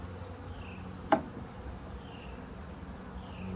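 Honey bees hum steadily around an open hive during a spring queen split, a soft continuous drone with a single brief louder buzz as one flies close past.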